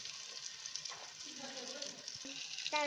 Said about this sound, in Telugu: టమాటా వేసుకొని వేగించుకోవాలి